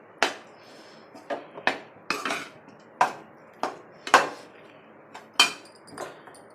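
A metal spoon stirring vangi bath rice with lemon juice and salt in a steel pot, a series of sharp clanks and scrapes against the rim at an irregular pace, close and clear.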